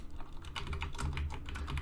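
Fast, steady typing on a computer keyboard, close and fairly quiet, with dense overlapping key clicks throughout and no speech.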